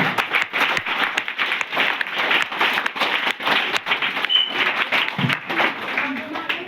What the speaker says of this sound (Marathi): जोरदार टाळ्या आजच्या फक्त शिक्षकांसाठी वाजवायला